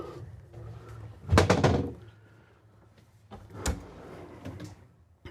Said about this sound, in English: Nice drawer here.